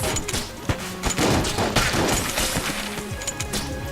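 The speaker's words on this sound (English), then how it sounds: "I'm just gonna shoot a crossbow shot and refill it" Crossbow shot fired in the video game Enter the Gungeon, a sharp release lost in dense, loud game action with rapid bursts of gunfire-like hits and crashes throughout.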